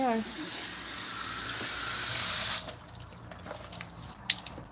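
Water gushes steadily from a tap onto a thirsty houseplant, a bright broadband hiss that cuts off abruptly partway through, leaving faint room noise and a few small splashes and clinks.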